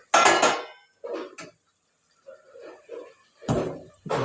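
Mutton pieces being tipped into a masala pot for gravy, a few loud clattering metal knocks and scrapes of pot and utensil in short bursts separated by quiet gaps.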